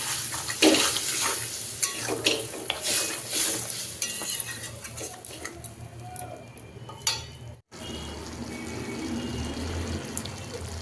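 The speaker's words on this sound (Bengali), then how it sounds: "এই সামান্য জল দিয়েছি" Water poured into a pan of simmering pointed gourd and jackfruit seed curry, with stirring, splashing and sizzling close up, settling after a brief cut into a steady low bubbling hiss.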